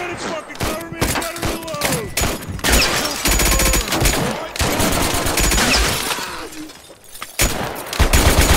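Rapid bursts of gunfire from the Mud and Blood war game, with machine-gun rattles and single shots, loud and close, under shouting voices.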